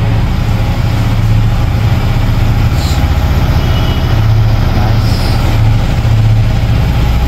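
A registered 2024 Indian-version motorcycle with about 5000 km on it idles loud and close, its low engine rumble steady and unbroken with no voices.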